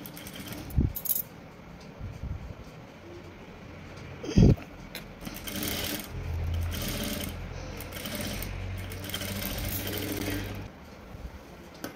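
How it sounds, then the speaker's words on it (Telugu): Sewing machine running steadily while stitching piping around a garment neckline, with a few soft clicks and a louder clack near the start, then a continuous mechanical whir through most of the stretch. "ఇలా నిదానంగా మళ్ళీ బొంగ రాకుండా ఇలా నిదానంగా అనుకుంటూ స్టిచ్చింగ్ చేయాలి"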